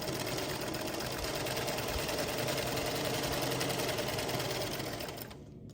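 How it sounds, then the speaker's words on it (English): A sewing machine stitching a star quilt block, a fast, steady, even mechanical whir and clatter running continuously at close range before stopping just before the end. "I start sewing right there on the corner, and then I follow this corner on the center line"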